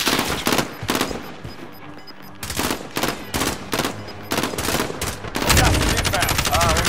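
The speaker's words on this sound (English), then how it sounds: "I'm getting shot at" Video game gunfire in a close firefight: rapid bursts of sharp, loud shots in uneven rhythm, some automatic strings, ending in a sustained heavy volley, with players talking over it.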